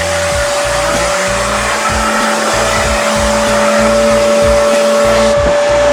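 A loud, steady Tornador air blower roars continuously with a high whine, pulsing rhythmically as the airflow is moved around a car interior, close up.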